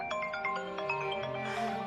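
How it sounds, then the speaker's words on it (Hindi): Mobile phone ringing with an incoming call indoors: a soft melodic ringtone with repeating chiming tones, faint and steady, heard alone for about two seconds. "सलमान भाई का फोन आ रहा है"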